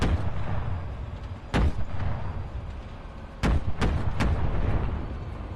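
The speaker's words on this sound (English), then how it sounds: "Here, let's just shoot at the ground." Gunfire from an aircraft in the video game Enlisted hits the ground in a few sharp, booming bursts separated by pauses, over a loud, steady engine roar.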